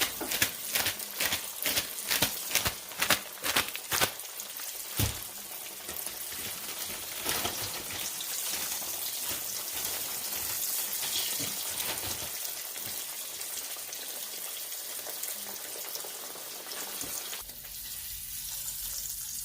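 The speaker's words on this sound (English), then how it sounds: "We're just going to fry 2 at a time so that everything cooks evenly and doesn't undercook." Pork chops fry two at a time in a pan, giving a steady broadband sizzle and crackle, with sharp spattering pops in the first few seconds and a continuous hiss that softens near the end; no talking.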